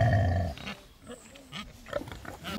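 Limousin black pig sows in heat grunting and squealing close by, a loud low grunt at first followed by a run of shorter, quieter snorts and grunts.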